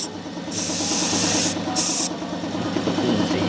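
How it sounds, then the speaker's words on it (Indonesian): An aerosol spray is aimed at a car battery's vent cap during routine service on a lift, giving a loud hiss in two bursts, a longer one then a short one, over steady workshop hum. "Selanjutnya semprot tutup ventilasi aki."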